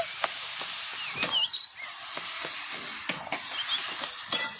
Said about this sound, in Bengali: এরপর বিটটা দিয়ে আরেকটু ভালো করে ভেজে নেব।